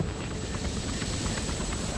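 A helicopter in Hitman 3 sits nearby with its engine and rotor running, a steady loud whirring drone with a thin high whine, unbroken for the whole stretch.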